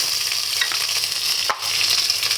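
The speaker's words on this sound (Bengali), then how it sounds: "তেল দিয়ে দিলাম, সরিষার তেল দিয়ে আমি রান্না করব। এখানে জিরা বাটা সব কিছু এগুলো দিয়ে দিলাম।" Cumin paste and other spices frying in mustard oil give a steady, close crackling sizzle that briefly drops out partway through, with no voices.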